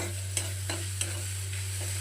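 Grated coconut being stirred as it fries in a pan for mango coconut sweets: a constant low sizzle with a steady hum beneath, broken by several soft scraping strokes of the spoon about every third of a second.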